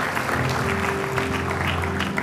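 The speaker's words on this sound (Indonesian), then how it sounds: "Tepuk tangan buat Tuhan kita" Church congregation applauds at a sermon, a dense steady clatter of many hands clapping together at close range, continuous for a couple of seconds with a sustained organ-like tone underneath.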